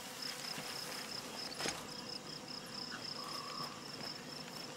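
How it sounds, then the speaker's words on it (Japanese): Drone buzzing in the tactical shooter game Ghost Recon Breakpoint, a faint steady high hum running through the whole stretch over a quiet night-time ambience, with no talking. "ドローンの羽音みたいなのが聞こえるんですけど"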